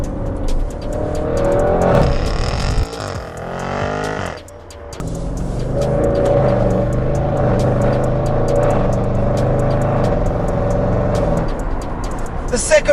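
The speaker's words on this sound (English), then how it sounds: "Simon's car is extremely loud between gears. This is loud throughout the gears and then between gears as well." An Audi RS6 C7 fitted with a Milltek exhaust revs hard and loud through the gears. A brief dip near the middle sounds like a gear change, and the engine roar carries steadily to the end of the clip.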